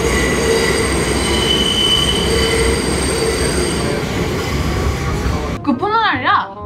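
A subway train runs through a tunnel with a loud, steady roar and high wheel squeal throughout, before the noise fades and a voice speaks near the end.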